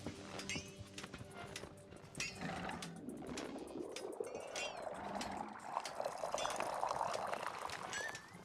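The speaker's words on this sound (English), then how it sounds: "pour a cup of tea" Tea being poured into a cup in the Wanderstop game: a soft, steady stream of liquid rising in pitch as the cup fills, quiet and close, with light clinks and clicks at the start.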